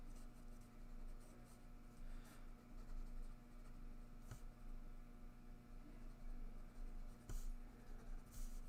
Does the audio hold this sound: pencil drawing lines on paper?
yes